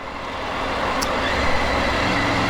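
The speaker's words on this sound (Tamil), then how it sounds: "ஓஎம்ஆரில் சண்டே மார்னிங்கு 8:36 டிராஃபிக்கை பாருங்கள்" Sunday-morning road traffic on OMR, a dense steady roar of engines, trucks and buses rolling past close by, continuous and fairly loud with no talk.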